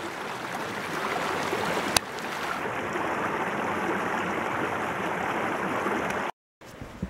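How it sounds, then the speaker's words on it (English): Water rushes steadily through a small creek swollen after a drought year, a close continuous broadband wash with a brief click near two seconds and a short dropout near the end. "just check out all the water now that is just flowing in this little creek here"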